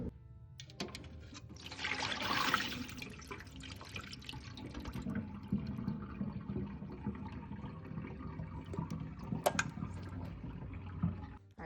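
Water poured off soaking shrimp while cooking Jamaican curry shrimp, a splashing, trickling stream that swells early then settles into steadier running and dripping, close and alone.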